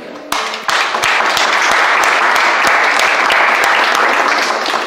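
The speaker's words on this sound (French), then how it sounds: "On peut tous s'applaudir." A crowd applauds steadily and loudly, with dense clapping that starts abruptly and continues evenly throughout.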